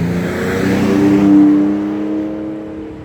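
A 2017 Ford Raptor truck engine turns over and catches, its revs climbing then settling into a steady, close idle with no talk over it.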